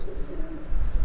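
Golden pigeons in a loft at a house in Islamabad, low soft cooing that rises slightly toward the end of the short stretch, close and unaccompanied by talk.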